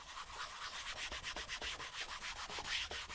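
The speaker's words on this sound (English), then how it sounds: "I'm just going to rub some grease right over the scratch marks." Grease is rubbed by hand over scratch marks on the smooth leather of handmade boots, making quiet, rhythmic back-and-forth strokes that repeat evenly.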